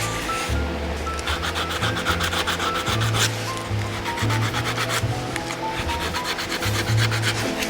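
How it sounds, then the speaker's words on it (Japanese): Sandpaper rubbed by hand along the edge of a leather shoe sole, steady close scratchy strokes in a continuous rhythm, with a faint background tone underneath. "ペーパーでやすってなじませます"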